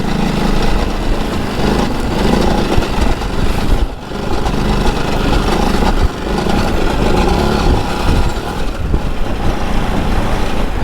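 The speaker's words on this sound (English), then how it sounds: "God, this engine's a lot torqueier than you think." A Ducati DesertX motorcycle's engine pulls hard in second gear off-road, a loud, steady, rumbling drone that holds throughout with only a brief dip in power partway through, and no talking.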